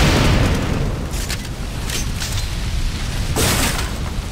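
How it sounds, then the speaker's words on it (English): Gunfire in the robot shooter Metal Arms: Glitch in the System, out in a wasteland, with a loud booming opening followed by a steady rumble and several sharp shots, one cracking louder toward the end. "Someone's shooting at me."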